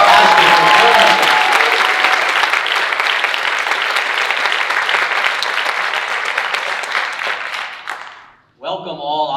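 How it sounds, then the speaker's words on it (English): Loud, sustained audience applause at the TDF Wendy Wasserstein ceremony, a dense wash of clapping with a few faint cheers and whistles that fades near the end before a voice briefly starts speaking. "Let's have another round of applause for this fantastic performance."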